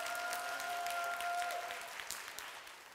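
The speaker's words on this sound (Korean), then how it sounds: "우리 박수 한번 보내줍시다" A church crowd claps steadily after a youth orchestra performance, dense and sustained, slowly thinning toward the end, with a faint held tone lingering underneath.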